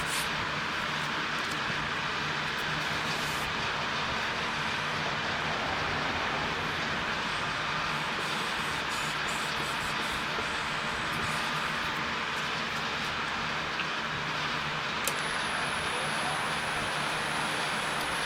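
A wood lathe spins a pizza cutter handle at 990 RPM, giving a steady broadband whirring drone that holds unbroken throughout, with a faint high whine entering near the end.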